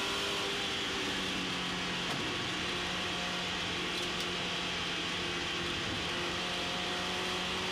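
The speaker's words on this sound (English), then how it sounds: "Once more through Goodwood, then Village, then on towards Church for Richard Hay" TVR Tuscan race cars roar around the Thruxton circuit during a race, a steady, loud engine drone with shifting pitch as the cars pass through the corners.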